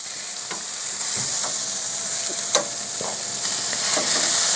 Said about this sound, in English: let's go ahead and flip these over.